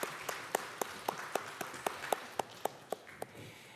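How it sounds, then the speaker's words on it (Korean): A church congregation at a Sunday service claps in steady, even unison beats, sharp and rhythmic but faint and distant, with no voices over them. "영광의 박수를 올려드리겠습니다"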